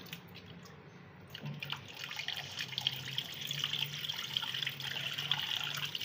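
Tap water running steadily into a bowl while raw liver (kaleji) is washed by hand in a kitchen sink, a continuous close rush that swells louder after the first second.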